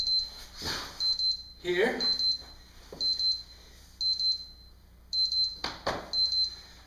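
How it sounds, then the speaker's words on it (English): Electronic alarm beeping in rapid double chirps about once a second, a high steady tone repeating through a solo breakdancing floorwork practice session, with brief speech and movement sounds between beeps. "when that alarm beeps, y'all should be finished"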